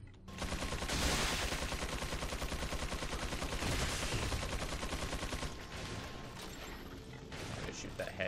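Shotgun fire and combat noise from Resident Evil 4 on the island keep up a dense, loud barrage of blasts for several seconds with little letup. Voices are mixed in underneath.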